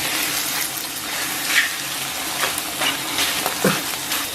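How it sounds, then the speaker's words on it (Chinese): Cut pig intestines sizzle and crackle steadily in a lightly heated wok as they are stir-fried to render out their fat, with occasional scrapes and clinks of stirring over the continuous hiss. "咱们把切好的肥肠给它下到锅中， 简单煸炒一下，煸出一部分这个肥肠上边的油脂啊"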